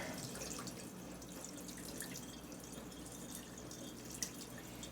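Water from an LG washer draining into a sink, a steady trickling and dripping wash of sound that holds at an even level throughout, with no talking.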